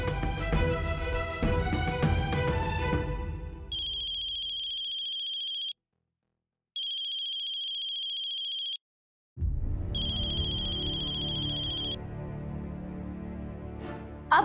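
A telephone ringtone chirps in three bursts separated by short pauses, loud and alone in a quiet domestic room, with background music fading out before and swelling back in after the ringing.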